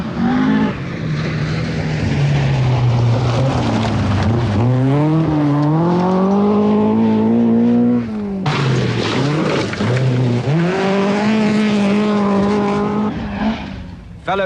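Vauxhall and Toyota rally cars on a 1982 RAC rally stage, loud close engines rising and falling through gear changes, with one car roaring past and a second following, a faint voice underneath.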